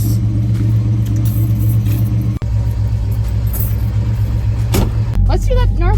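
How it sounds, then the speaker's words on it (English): A 1969 Dodge Charger holds a steady, loud, heavy engine rumble through a burnout, one brief dropout partway, with a short squealing tone near the end. "Let's do that gnarly burnout, James."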